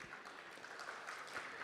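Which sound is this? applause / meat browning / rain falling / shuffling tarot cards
applause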